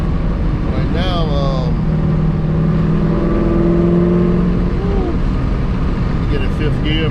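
A cammed Corvette C5 engine accelerates under load, a steady loud rumble with rising harmonic sweeps as it pulls through the gears, while someone talks over it inside the car.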